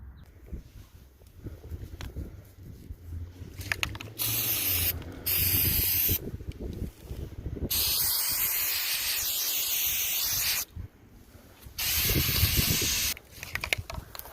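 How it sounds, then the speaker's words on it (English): A spray can hisses in several long bursts, one after another, while coating the underside of a metal disc golf basket outdoors in wind. Quieter handling noises fall between the bursts. "And now I'm going to spray the underside of it, give it 3 coats"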